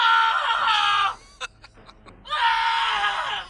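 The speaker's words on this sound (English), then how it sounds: "That's probably a victory scream," A man lets out a long, loud, strained scream, breaks off into a few short gasping sounds, then screams again just as hard.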